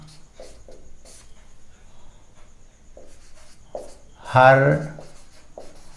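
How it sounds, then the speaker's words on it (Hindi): Chalk or marker writing on a board during a class 11 maths lesson on sets, with faint short strokes and one louder scrawl near the end, between a teacher's spoken words. "हम लिखेंगे"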